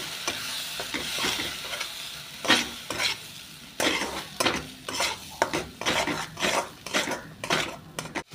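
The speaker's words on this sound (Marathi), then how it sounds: "वाटण आपण परतून घेऊया।" Ground masala paste with turmeric and homemade black masala frying in oil, a continuous sizzle broken by repeated scraping and clanking of a spoon stirring in the pan, steady and close.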